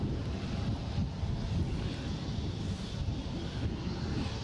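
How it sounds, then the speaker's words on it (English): Steady wind roars and buffets the microphone at Edinburgh Airport, a continuous broad rumble that fills the whole stretch without pause and has no talk over it. "It is getting windy."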